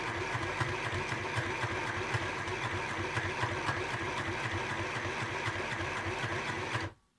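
A sewing machine stitches fabric for a craft gift with a fast, steady rhythmic whir of needle strokes, running alone and clearly, then stopping abruptly at the end.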